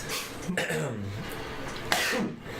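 A single sneeze bursts out during a tabletop role-playing livestream, a sharp broadband blast near the start and another abrupt explosive burst later, with voiced vocal sounds between them, close and fairly loud.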